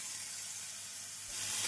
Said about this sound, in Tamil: தக்காளி சேர்த்து நன்றாக வதக்க வேண்டும்.